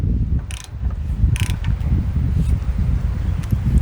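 A cheap electric ratchet loosens a bolt set to about 30 to 35 foot-pounds: a steady close mechanical whir with a low grinding rumble, broken by a few sharp clicking bursts early on.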